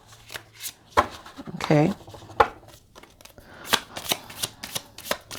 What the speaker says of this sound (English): Let me give it a little shuffle on camera.